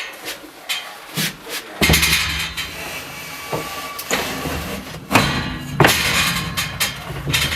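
Sections of a Powerlift 100 door being lowered through a chaseway and guided onto two pins, with a series of heavy metallic thuds and clanks at irregular intervals over a steady mechanical background hum.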